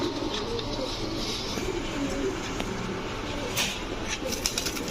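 Chinese Teddy pigeons, a female among them, cooing at a Bangladeshi pigeon market, low throaty coos under a busy background of rustling, clicks and distant noise.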